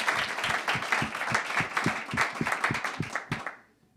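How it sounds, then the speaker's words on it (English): Audience applause for the pro men's winner at the 2022 IRONMAN 70.3 World Championship post-race press conference, a short burst of steady clapping from a small crowd that fades out at the end. "I think they deserve a round of applause and a huge welcome."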